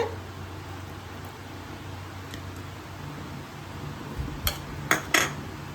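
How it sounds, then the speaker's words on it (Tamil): Ginger is pounded into small pieces for a chicken curry, a few sharp metallic clinks near the end over a steady quiet background, with no talking. "குட்டி குட்டியாக இந்த மாதிரி இஞ்சி வந்து தட்டி வச்சுக்கோங்க."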